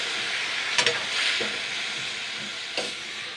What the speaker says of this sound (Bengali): কাঁচা টমেটো দিয়ে আগে মুসুর ডালটা আগে একটু ভালো করে কষিয়ে নেবো।